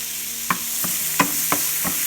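Chopped garlic and onion sauté in a pan for a homemade pizza sauce, with about five sharp scraping clinks of a spoon stirring against the pan over a low, steady sizzle.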